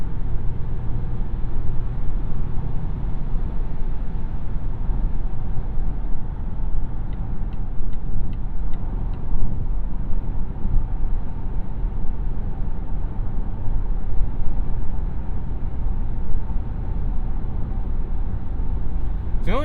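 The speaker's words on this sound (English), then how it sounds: "The only thing you tend to hear is wind noise." Inside a 2021 Volvo XC60 cruising at highway speed near a semi-truck, a steady low rumble of wind and road noise fills the cabin and holds at an even level the whole time.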